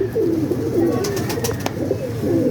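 Pigeons at a rooftop loft coo softly in low, throaty repeated calls, several birds overlapping close by, with a few faint chirps and light rustling in the background.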